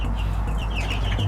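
Chickens in an egg incubation project, a mixed group that looks to be hens, clucking and chirping continuously at close range over a steady low hum, with no talk.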